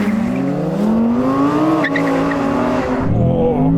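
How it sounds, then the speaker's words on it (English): A BMW M3 and an Audi R8 GT launch side by side in a drag race, engines revving hard with rising pitch and a brief squeal of tyres, loud and close throughout. "Let's launch these things."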